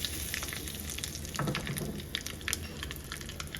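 Cumin, asafoetida, curry leaves and dried red chilli for Gujarati dal dhokli sizzle and crackle in hot oil, a close, fairly quiet hiss with scattered pops.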